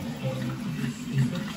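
Water pouring into a 15-gallon indoor aquarium, a short gurgling, splashing flow with a lower rush that swells briefly near the end.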